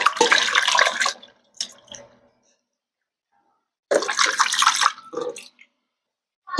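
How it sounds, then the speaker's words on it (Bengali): Cut ash gourd pieces being washed by hand in a bowl of water, with two bursts of sloshing and splashing separated by quiet gaps and a few small drips. "এখন এগুলোকে ধুয়ে নেব, তার জন্য একটা গামলাতে নিয়ে নিলাম।"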